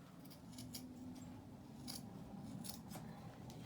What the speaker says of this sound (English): So if you just cut this pocket out